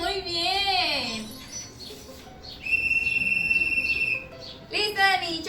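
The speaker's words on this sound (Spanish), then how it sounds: "Es un silbato de los policías." A police whistle gives a steady, shrill, sustained blast in the middle of the clip, with voices before and after it.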